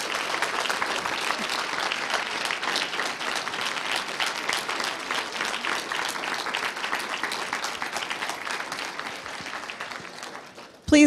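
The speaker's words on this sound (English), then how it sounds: "Could you give us another round of applause for Janaya Khan?" A keynote audience applauds, with dense sustained clapping from a large crowd that holds steady for about ten seconds before stopping.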